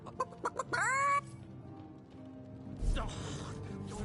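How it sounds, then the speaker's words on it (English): A chicken in the role-playing game Divinity: Original Sin 2 gives a few short clucks, then a sustained rising squawk, followed by mechanical creaks and low ambient noise. "Why did you let my chicken escape?"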